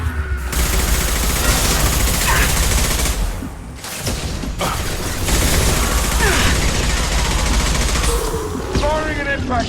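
Heavy, sustained gunfire in a Mass Effect 2 firefight, dense bursts of automatic fire and impacts with a few brief gaps, loud and close, with voices and combat effects mixed in.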